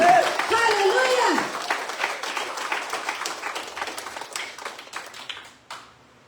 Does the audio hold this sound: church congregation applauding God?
yes